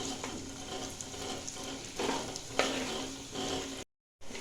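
Carrots frying in a pan for gajar halwa give a steady, close sizzle, with stirring scrapes at intervals and a brief drop to silence near the end.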